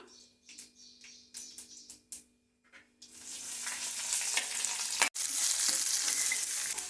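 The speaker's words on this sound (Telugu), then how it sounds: "ఉల్లిగడ్డ పచ్చిమిర్చి మంచిగా వేగిన తర్వాత" A few light clicks and taps, then a steady crackling sizzle of onions and green chilies frying in hot oil, close and continuous, with one brief break.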